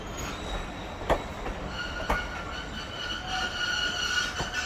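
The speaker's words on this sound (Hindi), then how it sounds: "ये आ गई है मेरी आज की ट्रेन" The Rehman Baba Express, a Pakistan Railways train, rolls into the station with a steady rumble, squealing wheels and sharp periodic clanks, close and loud, with no talk.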